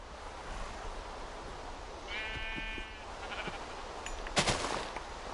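A sheep in a Minecraft-style video game bleats once with a short, buzzy, wavering cry over steady background hiss, followed a moment later by a sharper burst of game noise.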